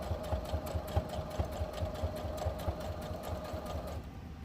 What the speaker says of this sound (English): And now we're going to top stitch. Go forward and don't forget to back stitch.